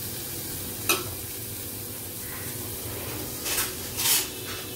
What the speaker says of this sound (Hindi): और इसे हम सॉटे कर लेंगे।